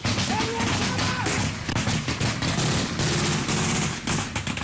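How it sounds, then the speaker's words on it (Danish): Gunfire cracks in bursts just over soldiers' heads on a battlefield in Afghanistan, loud and chaotic close shots and impacts over a dense roar of noise. "så bliver der skudt lige over hovedet på os"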